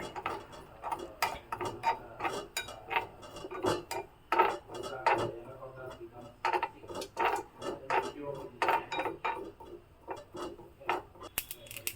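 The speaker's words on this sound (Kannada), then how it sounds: "ನೋಡಿ ಚಟಪಟ ಅಂತ ಸೌಂಡ್ ಬರ್ತಿದೆ" Ingredients for capsicum chutney, including mustard seeds, roast in a pan with sharp irregular crackles and pops, close and fairly loud, scattered through the whole stretch with a voice speaking at times.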